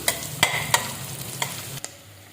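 Onions and green chillies fry in oil in a pan, with a few sharp stirring scrapes and clinks over a steady soft sizzle, no voices.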